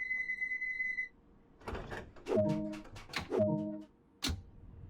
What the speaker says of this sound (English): We can now lock the doors.